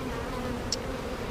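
A honeybee colony buzzing at a hive during a nectar flow in eastern North Carolina, a steady close droning hum of many bees with no talk.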